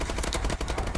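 Rapid bursts of automatic gunfire from a Call of Duty video game, dense and fairly quiet, with close repeated shots across a single second.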